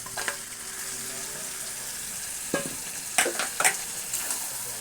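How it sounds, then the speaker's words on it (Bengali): Goat meat drops into a hot pan with a steady close sizzle, broken by a few sharper bursts and stirring scrapes, with no talking. "এবার দিয়ে দিচ্ছি মাংসটা।"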